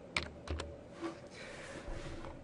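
Keystrokes on a computer keyboard as a CSS padding value is typed, a few quick close clicks followed by a sparser tapping, with no talk over them.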